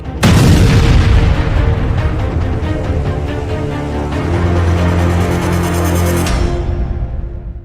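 Ammunition depot explosion in Krasnodar, Russia, a loud sustained booming roar that erupts suddenly and rumbles on for several seconds, with dense low rolling blasts and crackling throughout, no talk.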